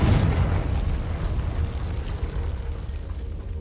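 A Confringo blast spell goes off in the video game Hogwarts Legacy, a loud booming explosion at the start that rumbles and slowly fades over a few seconds, with no talking.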